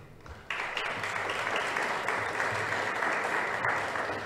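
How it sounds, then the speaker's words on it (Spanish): Warm applause from a seated audience at a Spanish-language media and education colloquium, starting abruptly after a brief quiet moment and continuing steady and dense for several seconds. "caluroso el aplauso entonces para doña Conchita Navarro de Haro"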